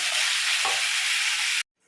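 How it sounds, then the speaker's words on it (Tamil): Loud, steady sizzling of tomatoes and onions frying in a pan for a spicy curry, with a brief stir partway through, then abrupt near-silence. "தக்காளி பழத்தை சேர்த்து நல்லா வதக்கிக்கோங்க"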